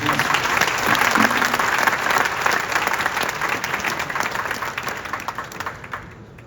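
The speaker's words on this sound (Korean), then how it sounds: "박수로 환영해 주십시오." A large church gathering breaks into loud, dense applause welcoming a pastor to speak, a full crowd clapping that holds steady and then gradually fades out.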